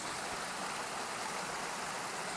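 A waterfall feeding a flowing stream makes a dense, steady rushing roar, constant and enveloping, with no voices or other sounds standing out.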